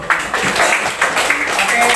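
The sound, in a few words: class applauding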